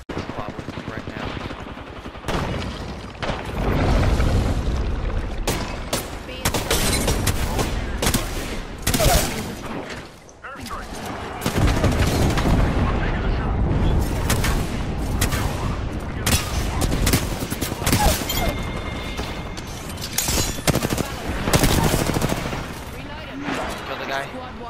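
Rapid video game gunfire from a multiplayer shooter match, loud bursts and dense automatic fire running through most of the stretch with a brief lull, while players talk over it.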